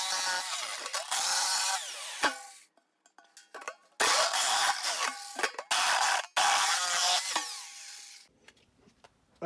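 A power tool cuts a hole in a container for a cyclone shop vac build, heard as loud close bursts of harsh whining and grinding that stop and restart several times with brief quiet gaps.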